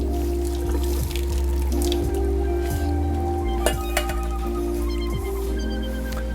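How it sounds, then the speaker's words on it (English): Cooked penne pasta drains in a strainer with wet drips, soft squelches and occasional clinks, under a steady loud hum. "I'm just gonna go ahead and strain this."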